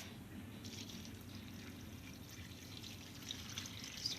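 Chicken broth poured into a pot while cooking Southern-style kale greens, a faint steady splashing and trickling of liquid with a few drips, heard alone throughout.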